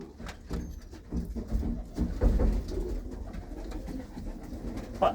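Pigeons in a loft coo in repeated low, soft calls, fairly close, with light rustling and wing shuffles mixed in and no voices.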